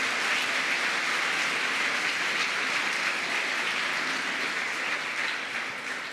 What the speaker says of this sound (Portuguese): aplauda forte o nome de Jesus Cristo